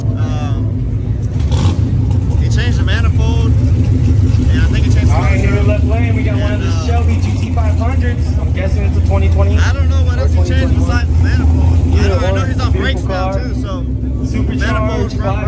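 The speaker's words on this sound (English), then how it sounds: "that's the Mustang that we're going to be running. He's about to make a test pass right now" A supercharged 5.2-litre Mustang with a changed manifold rumbles and revs on a drag strip before a test pass, its engine steady and loud under continuous nearby talk and crowd noise.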